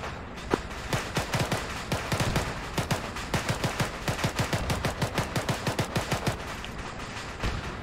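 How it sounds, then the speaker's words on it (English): Gunfire in the video game ARMA 3 rattles off in rapid, fairly steady bursts, dozens of loud close shots cracking one after another for several seconds. "I'm just shooting to look cool"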